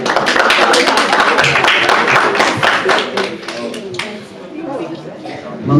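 An audience at a youth retreat claps in a burst of applause, lively and close, tapering off after a few seconds, with people chattering and a voice speaking over it.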